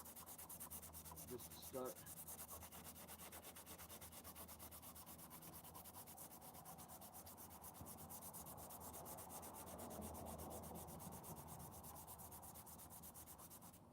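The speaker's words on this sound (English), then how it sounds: "Try to use a heavy grit P60 sandpaper." Steady close rubbing and scratching of hand sanding with heavy P60 grit sandpaper, a continuous rasp that goes on without a break, with a brief spoken phrase near the start.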